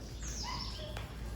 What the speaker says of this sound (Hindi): मैंने ये चिड़ियाओं की आवाज़ सुना दी।